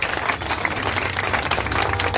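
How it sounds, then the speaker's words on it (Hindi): A crowd at a protest rally claps continuously, steady loud applause from many hands with uneven individual claps, sustained throughout without a break. "एहसास दिला दो ताली के माध्यम से कि हम अपनी समस्या के लिए लड़ेंगे, तो जोरदार ताली की आवाज सीएम कार्यालय तक पहुंचे।"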